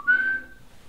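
A single short, clear whistled note, close and fairly loud, slightly rising in pitch before fading out.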